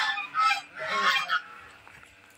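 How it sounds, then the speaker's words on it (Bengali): Chinese geese on a farm give two loud, harsh honking bursts close by, each lasting about half a second, then fade into quiet farmyard background. "এই যে রাজহাঁস,"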